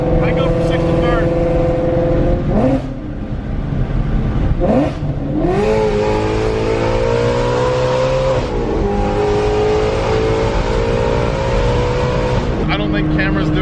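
A supercharged Ford Mustang GT350 roars close up on a street, the engine note climbing and falling through several surges and dropping into downshifts, with crackles and pops on lift-off and someone talking over it.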